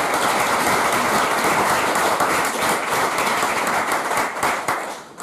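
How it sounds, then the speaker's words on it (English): Audience applause at a Latin American cinema culture lecture, dense steady clapping from many hands that thins out toward the end. "Some applause for him, please."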